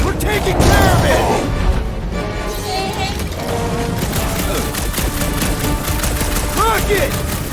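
Rapid gunfire crackles through a firefight in Marvel's Guardians of the Galaxy, with bursts of shots, impacts and whooshing effects layered under character voices calling out.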